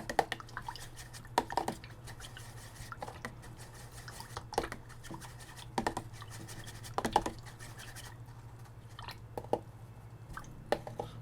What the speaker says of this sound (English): While I'm waiting for it to dry, I'm just gonna wash my brushes.